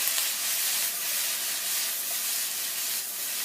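Vegetables browning in a hot pan for an easy chicken recipe give a steady, close, bright sizzle and hiss that holds evenly throughout, with no talking.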